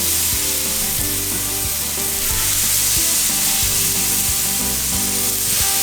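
Venison back strap sizzles steadily in a hot pan, a loud, close, continuous frying hiss with occasional crackles and no voices.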